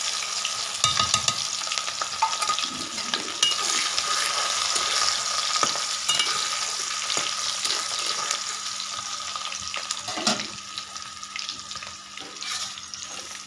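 Chopped onion frying in hot oil with five-spice and whole garam masala for a village-style desi chicken curry, a steady loud sizzle with stirring scrapes and a few clinks throughout, no voices.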